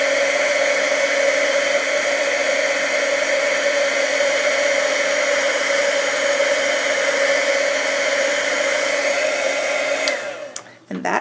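A heat gun blows steadily to melt white embossing powder on a holiday card, making a loud, constant whooshing roar that runs unbroken for about ten seconds and then cuts off abruptly.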